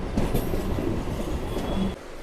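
A MEMU passenger train at Godavari railway station produces a continuous, fairly loud rumble of rolling wheels with faint squeals, easing off slightly near the end.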